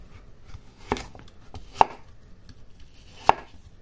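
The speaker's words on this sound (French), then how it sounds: "j'ai 5 pommes de taille moyenne que j'ai épluchées. Je vais les découper" A knife chops through peeled medium-sized apples, cutting them into quarters: three distinct sharp thuds on a board, spaced irregularly over quiet background.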